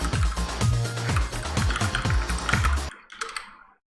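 Rapid keyboard typing clatters in quick, uneven bursts of keystrokes close to the mic during an online fighting game match, then stops abruptly, leaving a few faint clicks before silence.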